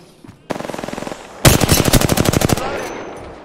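Automatic gunfire in the battle royale game Apex Legends: a short burst of rapid shots, a brief pause, then a longer, louder sustained stream of fire, close and dominant with no talk.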